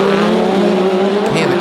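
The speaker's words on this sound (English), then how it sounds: "the car's just crashing slightly as they go through the gravel section" A rallycross car runs through the gravel section during qualifying at World RX of Latvia 2020, its engine a steady loud drone with tyre scrabble, and a voice speaks over it throughout.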